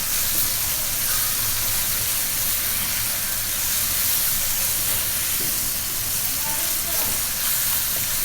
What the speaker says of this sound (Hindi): प्याज ब्राउन हो चुके हैं, आप तोरी शामिल करते हैं। अब इसको मिक्स करते हैं।